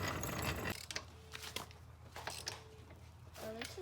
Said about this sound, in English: I'm gonna lower this thing down so I can tighten the lug nuts.